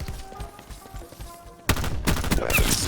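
Bursts of M16 rifle fire in the shooter Black Ops 4 erupt loud and close after a quieter stretch, dense rapid reports packed together over the final second or so.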